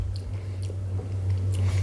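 Close crunchy chewing of Cinnamon Toast Crunch cereal, soft repeated bites and mastication sounds over a steady low hum, with no talking.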